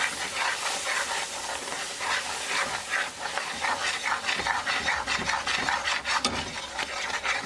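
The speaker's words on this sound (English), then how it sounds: "So we're going to add milk and mix it." Milk being stirred into a besan mixture for barfi in a pot, a steady scraping and rubbing of the spoon against the pan, close and moderately quiet, with no talking.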